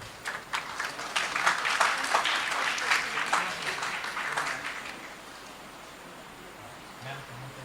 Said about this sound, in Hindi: डाइट चकुलिया से जोरदार तालियों से अभिनंदन।